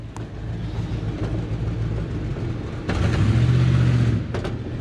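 A 1975 K10 pickup drives with a low, steady engine rumble, rising into a louder droning pull partway through.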